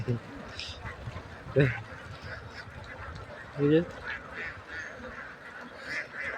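Ducks quack now and then in a paddy field at Karumalloor, Kerala, a few scattered calls standing out over a noisy outdoor background.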